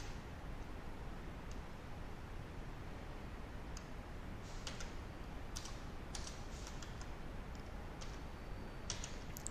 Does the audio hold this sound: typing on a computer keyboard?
yes